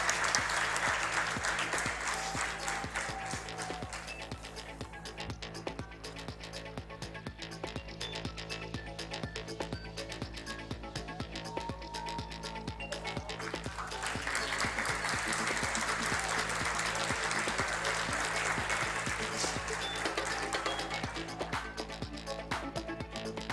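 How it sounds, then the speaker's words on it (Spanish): Steady applause from an award ceremony audience fills the whole stretch, a dense wash of many hands clapping at a fairly even level, swelling a little again toward the latter half, with no talk over it. "Un aplauso muy grande."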